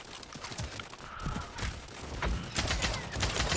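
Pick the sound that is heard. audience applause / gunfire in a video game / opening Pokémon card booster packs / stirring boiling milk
gunfire in a video game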